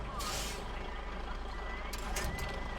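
A small SD truck in the SnowRunner game rumbles steadily with a low engine drone, with hissing air-brake bursts and faint reversing beeps near the end, close and constant.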